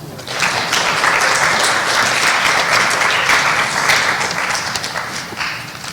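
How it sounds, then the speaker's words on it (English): A school class awards ceremony audience gives the sophomores a final round of applause, a loud, dense, steady clapping that fills the hall for several seconds and then tapers off. "Can we have one final applause for the sophomores?"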